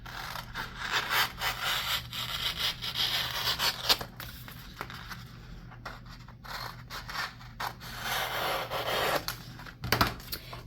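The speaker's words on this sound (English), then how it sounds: "So let's just go ahead and trim around the edges just a little bit." Scissors trimming around the edges of a sublimated vinyl car magnet, steady close snipping and rubbing cuts running through most of the span with brief pauses, no talk.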